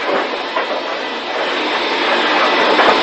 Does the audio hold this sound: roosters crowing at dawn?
no